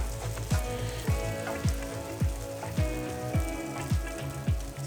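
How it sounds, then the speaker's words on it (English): Butter-dipped bread sizzling in a pan for a Wendy's-style copycat grilled cheese, a steady close frying hiss with a rapid, regular crackle of popping fat running throughout, no voices. "I melt it in the pan first, I dip my bread into the melted butter"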